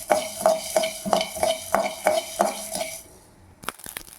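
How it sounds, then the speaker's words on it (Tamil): Mustard seeds splutter in a hot pan while cooking drumstick-leaf thokku, a rapid run of sharp popping crackles and clinks close by, dying away near the end into a few scattered pops. "கடுகு நல்லா பொரியுது பாருங்கள்"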